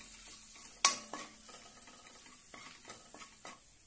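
Red chilli powder, turmeric and salt being sautéed in a pan for raw mango dal, a quiet low sizzle with one sharp metal clink and soft intermittent spatula scrapes.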